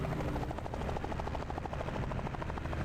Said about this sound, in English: the helicopter used to be 3 times as loud and they had to patch it day 1